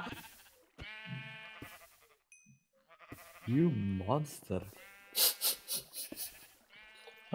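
Minecraft sheep bleating in a modded Minecraft map, several short wavering bleats scattered between bursts of excited player talk and laughter, close and fairly loud.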